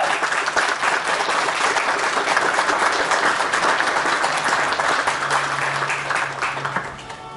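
Sustained, dense applause from a school graduation audience honoring a fourth-year secondary graduate, steady and full throughout before tapering slightly at the end, with no speech over it.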